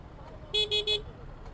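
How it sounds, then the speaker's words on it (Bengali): A car horn honks three times in quick succession, loud and close, over a low background murmur of road traffic during a jam. "তো রাস্তায় প্রচুর জ্যাম।"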